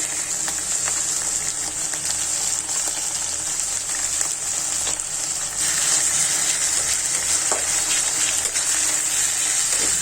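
Onion, green chili, garlic-ginger paste and cumin paste fry in a pan while being stirred, giving a constant dense hiss like rushing water that grows slightly louder midway, with faint scraping and no talk.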